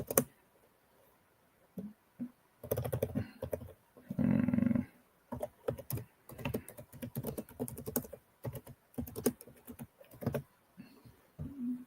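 Irregular bursts of typing on a computer keyboard, close and moderately loud, with clusters of quick key clicks separated by short pauses and one longer run of rapid keystrokes.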